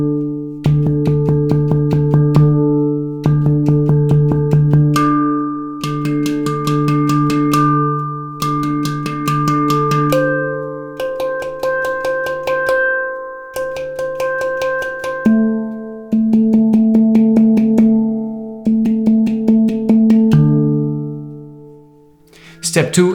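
A handpan plays a practice pattern counted in three beats, a steady series of ringing metallic strokes grouped in repeating phrases, close and clear with no talking over it.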